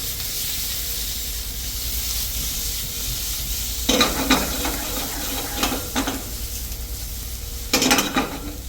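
Garlic green beans sizzling steadily in an oiled pan, with two bursts of scraping, clattering stirring and tossing partway through and near the end, close and fairly quiet.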